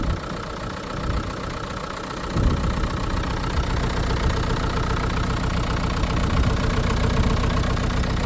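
A Renault Kadjar 1.5 dCi 110 diesel engine idles unevenly with a rough chug, loud and close, its low rumble steadying slightly after a brief bump in level.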